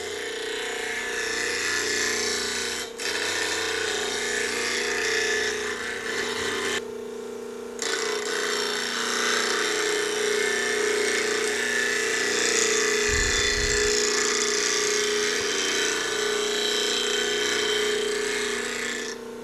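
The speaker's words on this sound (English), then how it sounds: "I could just keep it perpendicular to the wheel and just roll the tool around until I hit the whole cutting surface." A woodturning gouge is rolled across a bench grinding wheel to sharpen its whole cutting edge, giving a steady, harsh, continuous grinding rasp with a brief pause partway through.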